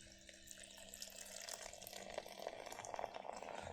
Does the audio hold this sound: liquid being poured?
yes